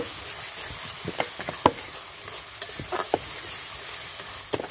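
Salt, turmeric and spices are sautéed in a pan for a papaya duck curry, with a soft continuous sizzle broken by scattered sharp spatula scrapes and taps.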